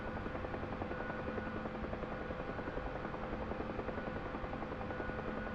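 Gunship helicopter in flight during military training, a steady rhythmic rotor chop and engine buzz holding at moderate distance throughout, with no talking.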